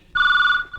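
A telephone rings once in a short, loud, close burst with a bright, steady electronic tone that cuts off cleanly, with no voices around it.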